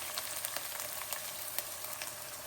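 Small carrot cubes frying in a hot pan for chilli paneer, a steady close sizzle with sharp little pops and crackles scattered evenly throughout.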